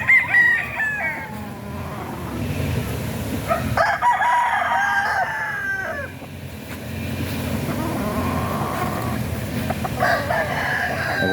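Hatch-bloodline gamecock roosters, about 80% hatch, crow repeatedly at close range, several birds overlapping with clucks between calls, against a busy outdoor background.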